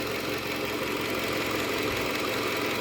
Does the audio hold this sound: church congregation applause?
no